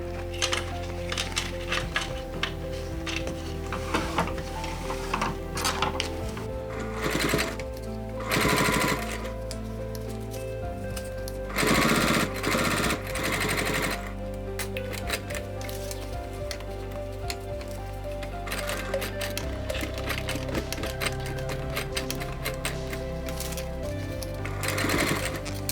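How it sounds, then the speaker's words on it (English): A sewing machine stitching a zipper onto a crossbody bag runs in rapid mechanical bursts, steadily with brief pauses and restarts, its rhythmic clatter close and continuous. "I can start all the way back here."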